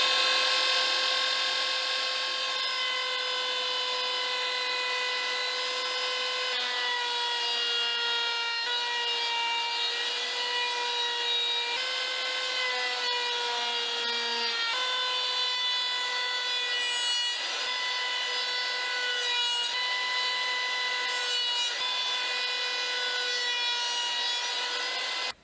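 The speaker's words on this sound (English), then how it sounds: "we've done quite a bit of sanding on here." A wooden bike rack piece is sanded by power tool in a steady, continuous whine with shifting tonal bands, loud and close, running alone without talk throughout.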